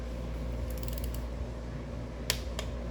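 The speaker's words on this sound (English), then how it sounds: "that little cracking sound, this is a click-type torque wrench" An old Snap-on click-type torque wrench clicks faintly, with a couple of short sharp clicks and some light ratcheting, over a steady loud mechanical hum in a garage.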